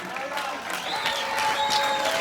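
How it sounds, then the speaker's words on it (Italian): Outdoor concert crowd in a town piazza applauding during a summer band show, dense clapping with scattered cheers and whistles rising steadily over a couple of seconds. "L'applauso però ci vuole anche per lei."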